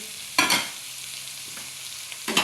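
Pork and cooking oil sautéing in a pan for a Filipino ginisa, with two short bursts of stirring and sizzle separated by a quieter low simmer, fairly faint overall.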